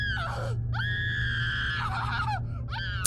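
A woman screams in horror, long sustained shrieks broken by short pauses, loud and close over a low steady hum.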